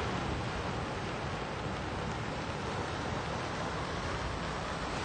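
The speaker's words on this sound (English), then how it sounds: "it's rained the whole time, which is wonderful" Rain falls steadily at Cottesloe Beach, a soft, even hiss that may blend with distant surf, with no breaks across the few seconds.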